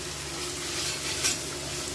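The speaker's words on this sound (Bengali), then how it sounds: "দিয়ে দিচ্ছি পরিমাণ মতো হলুদ গুঁড়ো, দিয়ে মশলাটা ভালো করে কষে নিচ্ছি" Spice masala with turmeric and salt is stirred and fried in oil, giving a close, steady sizzle with scraping stir strokes and one brief sharp metallic scrape, no talking.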